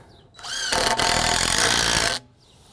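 A power drill drives fasteners into pre-drilled pergola timber, one loud sustained whirring burst of about one and a half seconds rising from a brief spin-up, then stopping abruptly.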